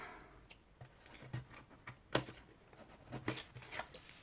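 Several short, sharp crackling snips and rips of tape being cut, irregularly spaced, close by and moderately quiet.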